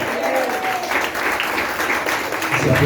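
Church congregation applauding in a Spanish-language worship service, a steady wash of clapping filling the room, with a voice briefly rising over it near the end.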